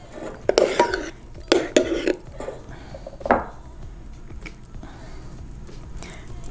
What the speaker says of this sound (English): I'm gonna use this ice cream scoop because I think it's the best way to gently put the cream